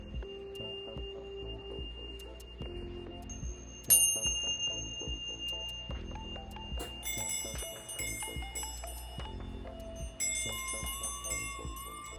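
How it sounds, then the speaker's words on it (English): Bells and tuning forks struck one after another near the listener's ears, several clear ringing tones that sustain and overlap, with a brighter, louder strike midway and faint background sounds. "she rang different bells to their ears."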